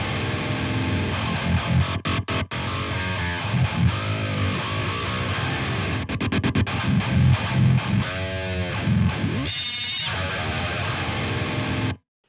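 Distorted, saturated electric guitar playing a continuous riff, loud and full, with the tone shifting slightly as the effect is toggled.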